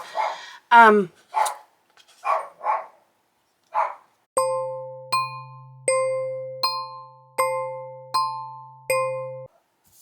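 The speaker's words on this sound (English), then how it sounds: "She has to bark at the poodles every single day." A dog barks sharply several times up close, followed by a run of bright, ringing chime-like tones repeating in a steady pattern.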